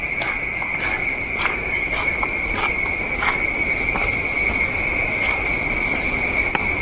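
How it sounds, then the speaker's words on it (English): Cicadas buzz in a thick, shaded Australian tropical rainforest, a steady high-pitched shrill drone with fainter layered chirps pulsing beneath it, continuous and moderately loud throughout. "I love hearing the cicadas, whatever that is, echoing through the rainforest."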